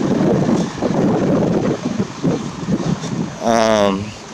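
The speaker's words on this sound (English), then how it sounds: "There's a little bit of a constant wind, but it's mostly gusts." Blustery wind buffets the microphone in uneven gusts, rumbling low and loud, with a brief whistling or voice-like tone near the end.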